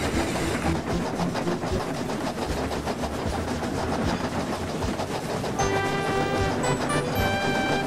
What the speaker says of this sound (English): Two engines raced up it faster than they'd ever done.